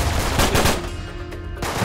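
Rapid automatic gunfire in Uncharted 3 rattles out in a dense, loud burst of close shots lasting under two seconds, with no voices over it.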